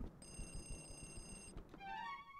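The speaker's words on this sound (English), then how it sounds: "there is a phone ringing somewhere" Phone ringing in a Luigi's Mansion mod: a faint electronic ring tone trilling steadily for over a second, then a wavering warbling tone, all quiet beneath low background game ambience.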